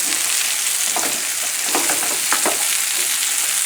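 Salmon or steelhead fillet fries steadily in a pan, a continuous close, loud sizzle with faint scrapes and crackles running throughout.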